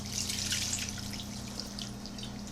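Kerosene California Marsala wine poured for cooking beside a kerosene stove, making a soft, steady trickle and splash over a low, constant hum.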